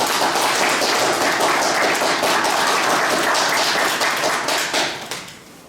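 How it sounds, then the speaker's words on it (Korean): Warm applause from an award ceremony audience honoring a retired school principal with a special Chrysanthemum award, a dense sustained roar of clapping that holds steady and then tapers off quickly at the end. "큰 박수로 축하해 주시기 바랍니다"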